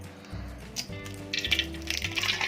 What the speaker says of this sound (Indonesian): kita goreng telurnya, api sudah panas, ceplok telurnya